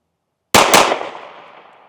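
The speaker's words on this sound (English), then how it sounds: "We're going to double tap center mass and just see how we do." Two sharp, very loud pistol shots fired in quick succession from a Smith & Wesson Bodyguard 2.0 or Shield Plus handgun in 30 Super Carry, a double tap followed by a short fading echo.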